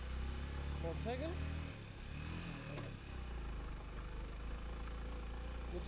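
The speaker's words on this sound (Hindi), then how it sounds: "मोटरसाइकिल" A motorcycle engine on a monsoon mountain road trip runs as a low, steady drone with a brief dip, heard close and under loud, animated voices talking throughout.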